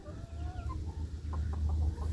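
Backyard chickens in a pallet-fenced pen lined with chicken wire cluck in short repeated calls over a steady low farmyard rumble, close and moderately loud.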